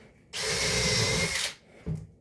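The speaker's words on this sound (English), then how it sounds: "I'm holding it off from where I want it to exactly be while I drill these pilot holes" Power drill boring pilot holes in wood: one loud, sustained high whine lasting about a second, then a short low thump, close and alone.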